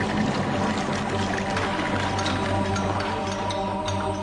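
Water seeping from the earth and dripping through narrow underground tunnels and cisterns, a dense continuous trickling and splashing wash that stays loud and even throughout.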